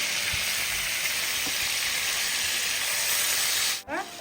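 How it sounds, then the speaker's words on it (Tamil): Curry leaves crackle and sizzle in hot oil for a Chicken 65 dish, a steady close frying hiss that cuts off abruptly near the end. "இதில் கொஞ்சம் கருவேப்பிலை போட்டுக்கலாம்."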